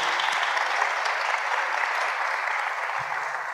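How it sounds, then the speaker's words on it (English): Steady, dense applause from a church crowd, continuous and fairly loud throughout with no pauses. "And one more round of applause,"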